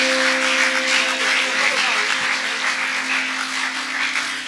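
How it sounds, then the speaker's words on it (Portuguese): Church congregation applauding during an evangelism and missions service, a steady continuous wash of clapping throughout with a sustained tone underneath, moderately loud and without a break. "Você pode aplaudir melhor o nome do Senhor?"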